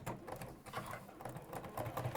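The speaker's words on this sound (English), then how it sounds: "And then again, I'm sewing on the line." A sewing machine stitches quilt fabric along a marked line, its needle chattering in a fast, steady rhythm that runs continuously and fairly close throughout.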